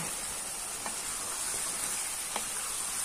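Mutton biryani masala with ground nuts is stirred in a pot, giving a steady, close frying sizzle with a few faint scraping strokes of the spoon.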